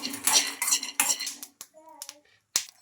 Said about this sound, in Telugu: ఇదే కడాయిలో పల్లీలు కూడా వేయించుకోవాలి ఇంకా ఇలా కలుపుతూ బాగా ఫ్రై చేసుకోవాలి పల్లీలను